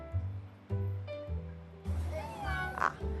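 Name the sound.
pedigree cat meowing in a Hong Kong shop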